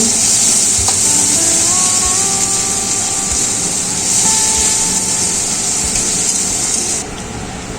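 Rohu fish with turmeric sizzles and fries steadily in a pan, a loud continuous hiss with faint stirring, and the noise drops slightly near the end.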